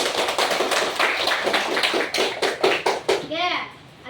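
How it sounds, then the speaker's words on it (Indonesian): Children in a classroom clap for a classmate with quick, uneven, slightly scattered handclaps mixed with kids' chatter, tapering off into a short spoken phrase at the end. "Tepuk tangan untuk Zikra"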